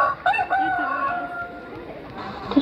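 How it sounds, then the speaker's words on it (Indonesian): A rooster crows loud and close in a drawn-out call, followed by quieter clucking and faint background noise. "Terdengar suara ayam pun"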